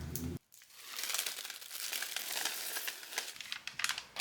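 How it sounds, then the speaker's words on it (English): Clear transfer paper is peeled away from cut Cricut vinyl on a DIY bookmark, giving a close, continuous crinkling and crackling rustle with sharper crackles near the end and no voices. "we're going to remove the clear paper"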